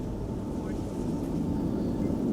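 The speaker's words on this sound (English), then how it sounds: "Something big and loud is pulling up from the center runway." A large twin-engine airliner with GE90 engines, a Boeing 777, powers up on the center runway at Amsterdam Schiphol, a steady broad distant roar with wind noise.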